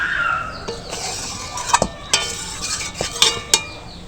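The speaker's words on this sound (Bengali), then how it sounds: "ভেজে রাখা আলুর সাথে মশলাটাকে একটুখানি নাড়াচাড়া করে নেব।" Spices being stirred into fried potatoes in a pan while cooking a vegetarian potato biryani: a soft sizzling bed broken by several sharp utensil scrapes and clinks against the pan, spaced irregularly and close by.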